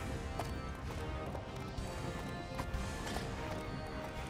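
Galloping hooves of the horse character in the Ultimate Chicken Horse video game, a busy continuous patter of game sound effects running throughout, with game noise and brief clatter mixed in.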